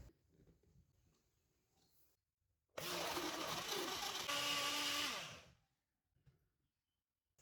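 Blender whirring through sugar, milk, avocado and banana for a milkshake, starting abruptly and running loud and steady for about two and a half seconds before winding down, between quiet handling noises.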